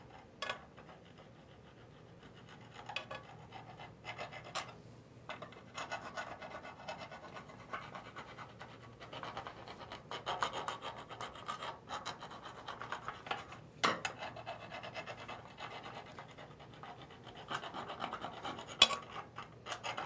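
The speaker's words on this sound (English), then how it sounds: "take a flat file and file the shaft in this area" A flat file rasps across a mushroomed shift shaft on a 4L60E automatic transmission, giving a long series of short, close scraping strokes that grow busier and louder partway through, with no speech.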